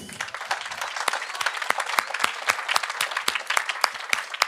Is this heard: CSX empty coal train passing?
no